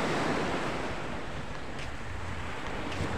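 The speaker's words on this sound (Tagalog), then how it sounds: "Ayan ang ating karagatan" Ocean surf washes onto a beach in a steady, rushing roar mixed with wind buffeting the microphone, close and continuous with no voices.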